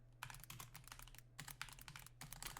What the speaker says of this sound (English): I can't type. Typing is really difficult.